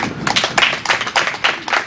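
Audience hand claps and cheers breaking out after a statement, a burst of brisk, fairly loud clapping in uneven waves with a few cheering voices mixed in.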